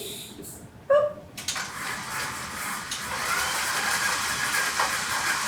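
Stand mixer creaming softened butter and sugar for caramel apple cupcakes, a steady whirring, hissing drone that starts after a brief clatter and runs loud and unbroken.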